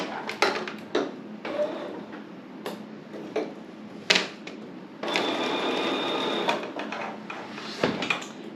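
Sewing machine stitching a seam slightly deeper than a quarter inch on a small quilted topper, heard as short bursts of mechanical clatter followed by a longer steady run, close and alone.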